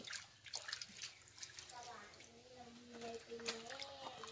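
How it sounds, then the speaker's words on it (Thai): Mangoes being washed by hand in water to remove ripening-agent residue, a soft swishing and dripping splash under a voice, with a man answering her. "นี่เราก็จะมาล้างมะม่วงนะคะ ล้างแก๊สออกนะคะ"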